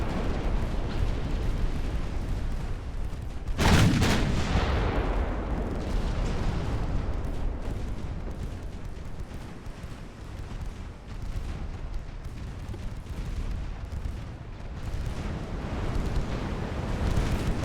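Naval gunfire from 3-inch and 1.1-inch guns in the Ultimate Admiral: Dreadnoughts video game, one loud booming shot early on over a dense, continuous rumble of distant firing.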